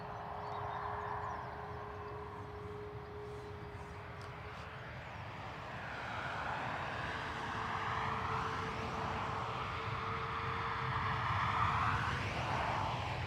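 A Ryanair jet airliner at Dublin Airport makes a steady, moderately distant engine rumble with a thin whine that slowly rises and shifts in pitch as it moves.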